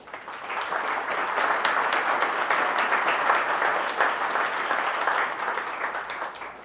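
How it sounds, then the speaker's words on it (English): A roomful of people at a Purple Heart Day event in a veterans hall applaud the mayor, the steady, even clapping holding at full strength for several seconds. "Let's give a round of applause."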